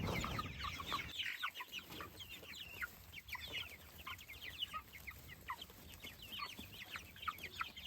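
Several meat chickens cluck and murmur close by in a continuous, busy chatter, with a few sharper calls rising over the flock.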